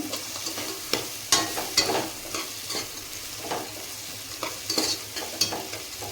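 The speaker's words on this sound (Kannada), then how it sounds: "ಈಗ ನಾರ್ಮಲಿ ಉಪ್ಪಿಟ್ಟು ಯಾವ ಥರ ಮಾಡ್ತೀರಿ ಅದೇ ಥರನೇ ಇದನ್ನೆಲ್ಲದನ್ನು ಬೇಯಿಸ್ಕೊಳ್ರಿ" Onions cook in a pan for an upma-style dish, with a soft sizzle under repeated close scraping and stirring strokes at an irregular rhythm.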